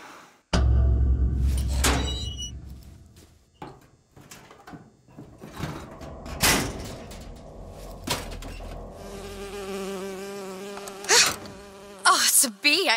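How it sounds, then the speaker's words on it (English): A bee buzzes in BioShock Infinite at a broken gondola, with a close, droning hum that wavers in pitch, broken up by thumps and clunks and ending in sharper buzzy bursts. "Oh, it's a bee. I hate these things."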